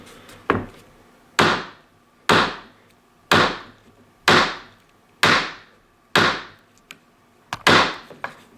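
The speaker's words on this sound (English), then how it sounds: "take two on the spine whack test." Schrade 503 knife spine struck against wood in a spine whack test: eight or so sharp, loud wooden whacks at a roughly even pace, each ringing briefly before the next, with no talk.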